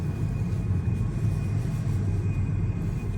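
A Bodex Salon Air dust extraction unit at a pedicure station hums steadily, a constant low drone with a faint whine, alone and unchanging.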